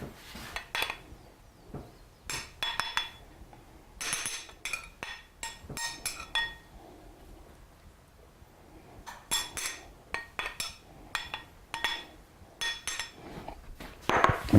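A metal spoon scrapes and clinks against a bowl as collard greens are served into it, in irregular bursts of close, crisp tapping separated by short quiet gaps.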